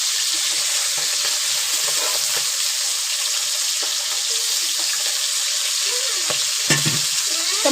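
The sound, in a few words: tengra fish frying in a pan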